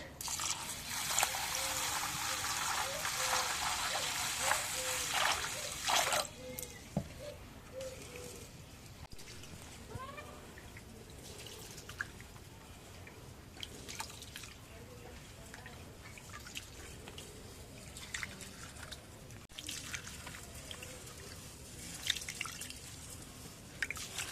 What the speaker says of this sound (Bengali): একবারে চিকন চাউলটা ধুয়ে নেই